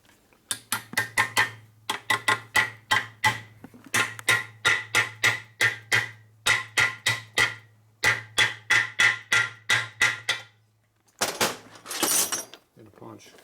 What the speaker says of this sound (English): Now that has to be beat into there with a hammer.